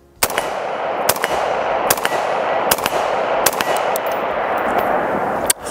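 AR-15 rifle fitted with an H2 buffer firing a string of about seven sharp, loud shots at uneven intervals, each crack ringing out over steady outdoor background noise, with no talking.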